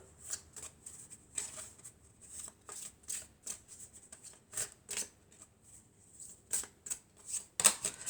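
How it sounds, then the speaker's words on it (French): Tarot cards are shuffled and drawn by hand: a run of quick, crisp riffling and slapping bursts close to the mic, irregular in rhythm, with short quiet gaps between them and no voices. "Alors ensuite, on va prendre encore 4 cartes."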